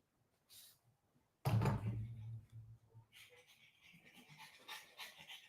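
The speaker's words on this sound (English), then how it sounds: "This dog be wilding out, man." A dog makes a sudden loud burst of panting and low snuffling close by, mixed with thuds like a door or cupboard, then a rough breathy hiss continues more softly to the end.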